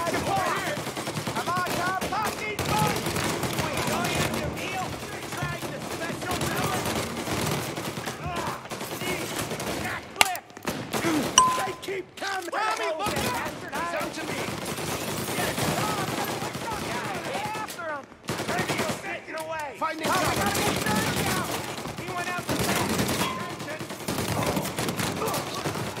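Gunfire in Mafia: Definitive Edition, a dense run of rapid shots and bursts lasting through most of the stretch, with brief lulls and a loud crack near the middle, over game noise and some talk.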